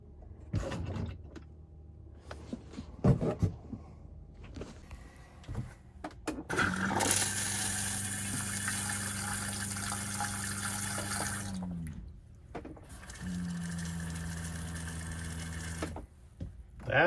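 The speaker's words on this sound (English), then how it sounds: "I'm going to turn on the water, see if we have any leakage." Water rushes through RV plumbing once switched on, a steady hiss and hum that starts abruptly, cuts off, then resumes for a second stretch, framed by clunks and handling noises.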